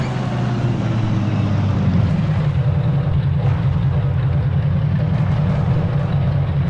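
A heavy tank engine in Forgotten Hope 2 rumbles steadily at close range, a low continuous drone that shifts slightly in pitch partway through.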